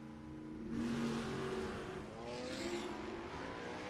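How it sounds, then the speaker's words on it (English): A BMW chases a 1955 Chevrolet Bel Air down a drag strip at a no-box 660 shootout, engines roaring loudly and rising in pitch as they pass, with a broad, steady rumble throughout. "the Beamer is chasing Gabriel Snyder"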